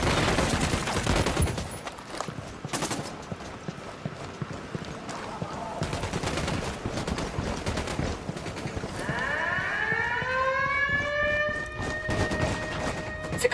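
Rapid gunfire in Ghost Recon Wildlands, a dense stream of overlapping shots and rattling bursts over the first half, easing into a quieter, steadier background of game sound, with voices talking throughout.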